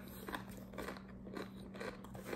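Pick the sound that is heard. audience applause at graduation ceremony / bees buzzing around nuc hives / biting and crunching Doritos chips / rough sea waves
biting and crunching Doritos chips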